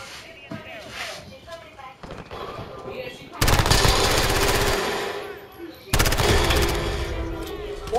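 Rapid automatic gunfire in Call of Duty: Modern Warfare, fired through a wall, comes in two loud sustained bursts after a stretch of quieter game sounds and talking.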